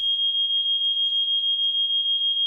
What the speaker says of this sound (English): you hear your fire alarm go off. And it's loud and obnoxious